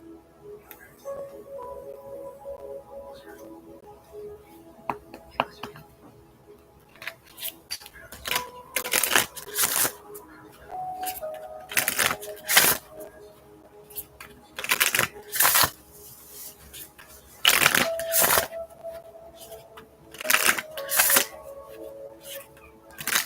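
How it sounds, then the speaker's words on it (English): A tarot deck is shuffled by hand in a quiet room, giving a long series of crisp, close riffling bursts in uneven clusters, separated by soft card taps and handling. "24 shuffles."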